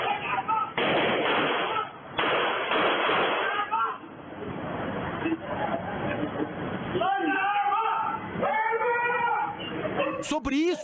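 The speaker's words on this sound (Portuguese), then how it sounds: "16 e 18 estampidos são ouvidos." A burst of gunfire, around 16 to 18 shots during a Military Police stop between two cars, rings out as rapid cracks over loud shouting and a confused babble of voices.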